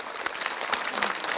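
Studio audience clapping on a Korean radio talk program, a brief round of close, crisp individual claps at moderate loudness.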